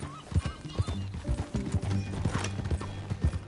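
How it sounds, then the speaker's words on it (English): Horse hooves clip-clop at a steady walking rhythm in the Red Dead Redemption 2 video game, with a soft whinny near the start, moderately quiet and close. "That a new horse?"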